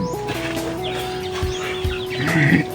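A Rhode Island chicken clucking close by in a farmyard, a few short soft clucks scattered over a steady background hum, with no talking.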